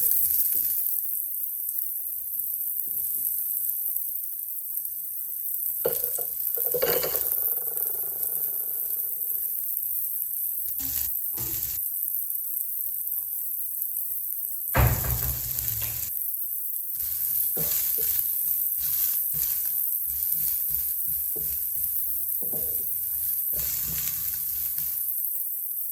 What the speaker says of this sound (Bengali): এইবার এই গরম তেলের মধ্যে আমি পেঁয়াজগুলো দিয়ে দেবো